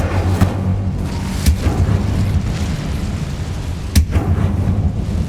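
Incendio fire spell cast in Hogwarts Legacy, a dense roaring burst of game fire with sharp booming impacts near one, one and a half and four seconds, loud and continuous without talk.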